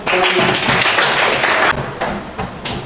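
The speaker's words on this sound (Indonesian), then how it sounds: "kasih aplaus." Brief burst of applause in a classroom, a quick patter of hand claps followed by a few scattered, separate claps as it dies away.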